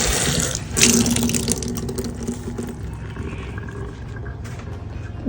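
Water runs from a sink tap on a home deck being cleaned after winter, a steady close splashing stream that swells briefly near the start, then settles and thins.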